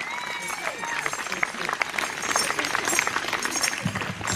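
Audience applause after a performance, a steady patter of many hands clapping close by, with cheering, whistles and voices mixed throughout.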